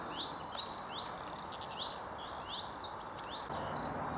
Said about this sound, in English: Some kind of warbler there.